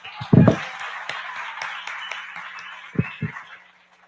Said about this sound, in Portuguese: Quantos aqui dentro dessa animação podem aplaudir o rei?